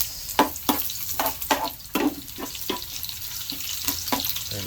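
Garlic and onion frying in hot oil for a Filipino catch-and-cook meal, with a steady close sizzle broken by repeated sharp scraping stir strokes at a quick, uneven rhythm.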